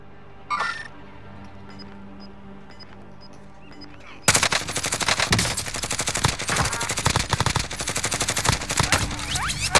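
Gunfire in Call of Duty: Modern Warfare, a quiet stretch with a few faint clicks and beeps suddenly giving way to sustained rapid automatic fire, loud and close, rattling continuously to the end.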